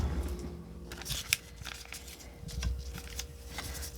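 Scissors snip through paper being trimmed to size for a handmade CD sleeve, a series of quick close crisp cuts and rustles in an otherwise quiet room.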